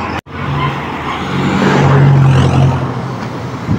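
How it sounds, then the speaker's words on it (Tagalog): A cargo truck on the Maharlika Highway in Quezon Province roars past close by, its engine drone swelling to a loud peak and then easing off. "Ayun, cargo truck."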